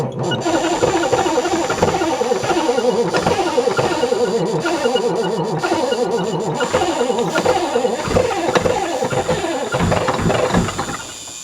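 Old big power truck engine cranked over while being primed, a loud continuous rhythmic churning of the starter turning the engine with hissing overtones, close and steady throughout without catching.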